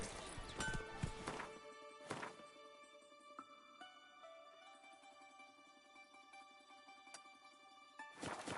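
Roach, Geralt's horse in The Witcher 3, galloping with a few heavy hoof thuds at the start and end around a quieter stretch of tonal game sound.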